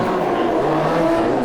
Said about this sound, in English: you can hear him feather the throttle